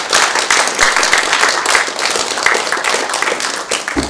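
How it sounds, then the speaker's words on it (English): Close, loud applause from a small meeting audience for a guest talk, brisk overlapping hand claps sustained throughout without pause. "If you'd like to give a round of applause,"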